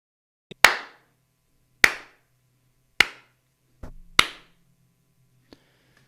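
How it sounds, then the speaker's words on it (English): Four loud, close hand claps spaced about a second apart with silent gaps between, followed by a faint tap near the end. "The space in between my clapping is emptiness."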